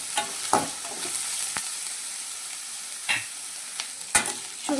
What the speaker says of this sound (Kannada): ಶುಂಠಿ ಬೆಳ್ಳುಳ್ಳಿ ಪೇಸ್ಟು ಒಂದು ಸ್ವಲ್ಪ ಹಸಿ ವಾಸನೆ ಹೋಗೋವರೆಗೂ ನೀಟಾಗಿ ಹುರ್ಕೊಳ್ಬೇಕಾಗತ್ತೆ